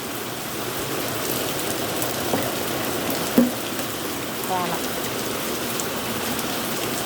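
Steady monsoon rain falls and patters on surfaces as an even, continuous hiss, with a single brief knock partway through.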